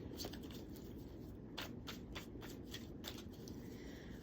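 Tarot cards being shuffled, a run of soft riffling flutters and short slaps repeating steadily over a low background hum, close by.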